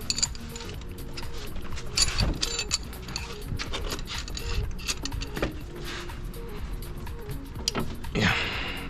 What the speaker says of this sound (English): we're gonna get our trusty friend, our trusty spanner that's gone through a lot already, to help us slack these